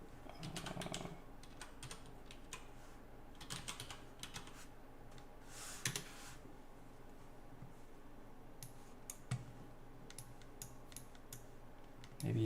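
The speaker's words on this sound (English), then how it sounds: "I can just type it in though." Close, quiet keystrokes on a computer keyboard, irregular taps and short bursts of typing spread across the whole stretch, with no talking.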